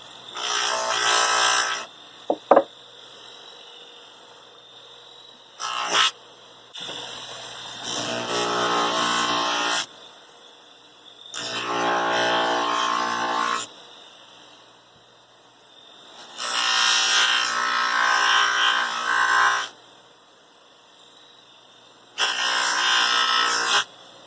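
A Red Wing model 26A dental lathe spins at 3450 RPM polishing a stone, its motor whine rising and stopping in several separate bursts of a few seconds each, loud and close, with short quiet gaps between.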